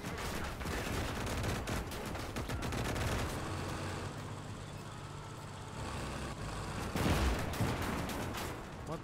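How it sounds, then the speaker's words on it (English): Video game gunfire in the LosLife RP role-play server, with sustained volleys of rapid shots rattling over a steady engine-like rumble and a sharper burst near the end. "What the hell is shooting us?"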